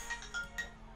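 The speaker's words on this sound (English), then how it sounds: "That is my phone, but we're going to ignore it for a second" A mobile phone rings faintly in a quiet room, giving a short sequence of three soft electronic chime tones.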